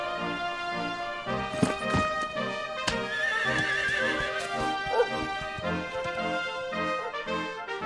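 A horse in the video game Dragon Quest XI neighs in a bright, wavering whinny over steady clip-clop hoofbeats, with a few sharper hoof strikes and a game music backdrop, without any talking.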